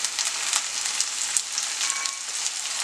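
Tomato and green chillies sautéing with onions and chilli powder in a pan for tofu palak paneer, a steady close sizzle and fry with faint crackles, no talking.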